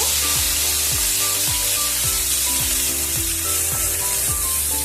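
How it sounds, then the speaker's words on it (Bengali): Chopped garlic frying in hot oil for a crab curry, a loud continuous sizzle with repeated scraping strokes of a spatula stirring it at a steady rhythm, no voices. "এবারে রসুন কুচিটা দিয়ে দিলাম একটু নাড়াচাড়া"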